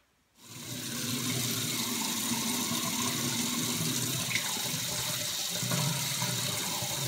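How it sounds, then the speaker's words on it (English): Warm water gushes from a tap to rinse off a mud face mask, starting abruptly after a short silence and then running as a steady, close, unbroken splash. "it's time to wash it off with warm water."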